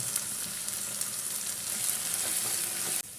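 Ground masala paste sizzles in a pan for an egg roast as it is stirred, a quiet steady frying crackle that stops abruptly at the end, with no talk.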